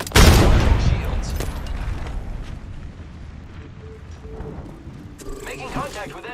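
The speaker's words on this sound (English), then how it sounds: "Enemies are shooting at me." Gunfire in a battle royale shooter, opening with a loud blast and a sharp burst of shots that fade into a rumbling tail, with brief game voice lines and effects near the end.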